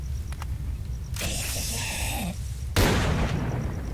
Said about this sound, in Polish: Na sześć strzałów z tej strzelby.